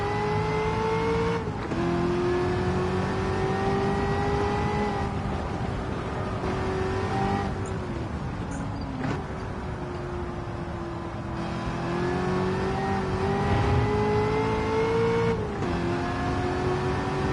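In Gran Turismo 7, played in VR, a race car's engine drones at high revs, its pitch climbing and dropping through gear changes and braking over a long stretch, loud and close with no talk.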